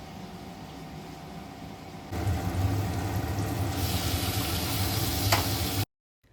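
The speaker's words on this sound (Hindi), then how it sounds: "और दूसरे साइड मैं पास्ता में तड़का लगा लेती हूँ।" Spices tempering for pasta sizzle in a hot pan in a home kitchen, a steady crackling hiss that jumps louder after a quiet stretch and carries on close up until it cuts off abruptly.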